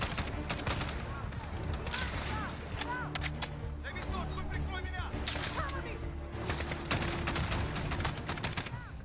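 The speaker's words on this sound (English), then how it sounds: "I'm shooting you." Rapid gunfire in the Call of Duty: Modern Warfare realism campaign, dense cracking shots and bursts continuing without pause, mixed with in-game voices shouting in the background.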